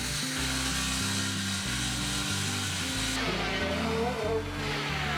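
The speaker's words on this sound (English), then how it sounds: "The 27-foot boards would need to be planed and milled and cut to length." Power tools working long African mahogany boards for a wooden boat restoration, a loud close machine drone that rises and falls in uneven bursts with low thumping underneath, over a steady background hum.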